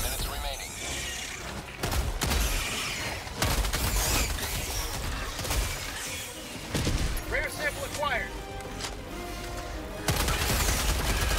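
Rapid bursts of automatic gunfire in Helldivers 2 as a player dumps magazines into a horde of bugs, dense rattling volleys broken by short gaps, with a voice talking over the shooting.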